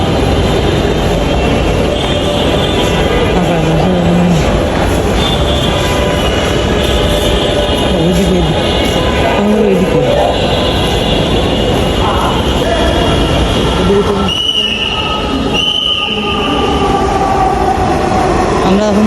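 A Dhaka metro rail train rumbles steadily through a station platform, a loud, continuous mechanical roar with brief brake hiss near the end, while passengers murmur in the background.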